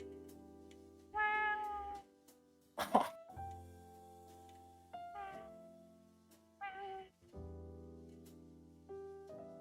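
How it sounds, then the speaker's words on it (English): A tiny, high-pitched cat mews several times in short separate calls, fairly faint and close, with a cough-like sound mixed in and no talk over it. "Oh, her little meow. Did you hear the meow?"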